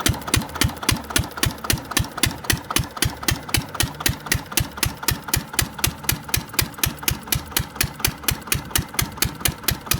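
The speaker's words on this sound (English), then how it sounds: "And that's the Witte diesel." An antique single-cylinder Witte diesel engine chugs in a steady, evenly spaced beat, each loud thump ringing with a sharp knock, running alone without speech.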